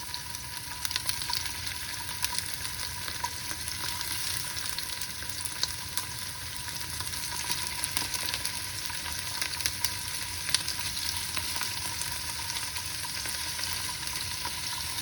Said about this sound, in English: we add our prawns, and you only need to fry them for about a minute each side